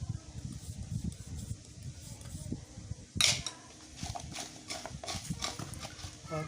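Mango pickle being mixed with masala by hand or spoon, giving soft irregular stirring and clinking against a metal dish, with a sharper clatter midway; no talk.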